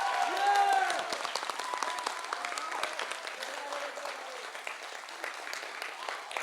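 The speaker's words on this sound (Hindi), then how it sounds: "जोरदार तालियों से स्वागत कीजिए।" Audience applause welcoming the facilitator and director of a National School of Drama play, a dense wash of clapping that swells loudest in the first second, then settles into steady, sustained clapping mixed with crowd voices.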